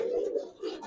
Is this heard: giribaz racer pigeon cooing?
yes